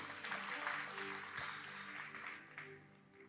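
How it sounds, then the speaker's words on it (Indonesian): Church congregation clapping during a Sunday worship service sermon, a faint, dense wash of applause with some musical tones and crowd noise underneath. "Tepuk tangan buat Tuhan Yesus."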